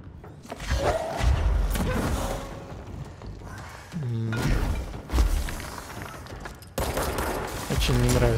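Gunfire in the video game Control: AWE, with repeated bursts of shots and heavy thuds spread across the clip, loud and close, broken by short pauses, with a voice speaking between the bursts.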